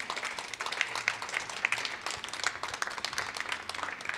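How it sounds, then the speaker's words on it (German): Audience applause at a book fair talk event, a dense patter of many hands clapping steadily at moderate distance, with faint voices beneath. "ein Applaus gebührt diesen dreien"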